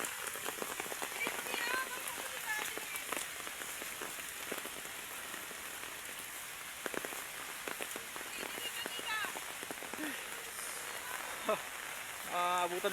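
Heavy rain pours steadily with strong gusting wind in an open outdoor setting during kite flying in a storm, a dense continuous hiss of drops on surfaces with scattered louder spatters and faint background voices.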